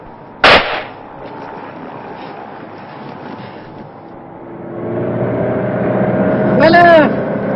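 A single sharp bang from a blank alarm revolver cracks out near the start, followed by a low engine rumble and a brief squeal of tires later on.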